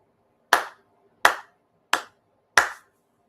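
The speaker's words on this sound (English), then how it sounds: "日曜拝礼 4 sincere claps." At a Shinto Sunday service, worshippers give four crisp ritual hand claps in a steady, even rhythm, each ringing briefly in the hall before near silence returns.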